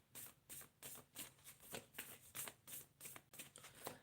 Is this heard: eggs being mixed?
no